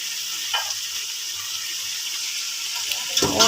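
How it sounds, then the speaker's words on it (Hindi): Spice masala tipped into fried chicken in a pot for chicken biryani, a loud steady hiss of sizzling oil with a few soft thumps and a sharper crackle near the end, no talking. "अब जो मैंने आपको मसाला बताया था, ये सारा मसाला मैं इसमें डाल देती हूँ"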